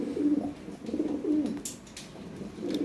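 Lahori Sherazi pigeons coo in repeated low, rolling phrases at a farm, several close calls following one another with brief pauses and a few sharper noises in between.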